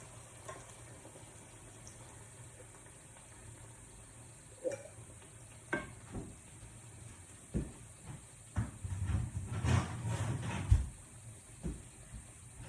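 Coconut milk poured into a pan of Thai green curry and stirred, giving a quiet sizzle and bubbling with spoon strokes that grow busier and louder toward the end.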